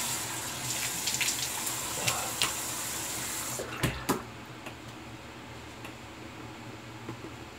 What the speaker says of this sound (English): Let's rinse the alum off.